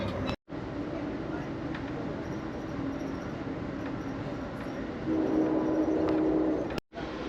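Amtrak Crescent passenger train hauled by two GE Genesis P42DC locomotives, a steady rumbling rail roar heard from on board, continuous and fairly loud, with a brief dropout near the start and a short gap near the end.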